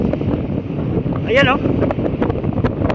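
Strong wind along a seashore rushes and buffets the microphone in a constant roar, and someone speaks briefly over it.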